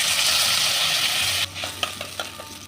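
Water is poured into sizzling fried ginger and green chilli paste in a pan. Loud frying hiss fills the first half, then it quiets into softer bubbling with a few stirring clinks.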